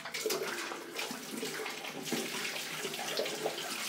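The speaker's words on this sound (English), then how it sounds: "Let me just rinse this off." Water running steadily from a tap while rinsing a razor after a wet shave, a continuous close splashing rush with slight changes in flow and no voices.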